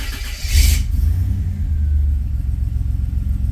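A car engine with a chip in its stock ECM starts up with a brief burst, then settles into a steady low idle rumble that continues to the end, close and fairly loud.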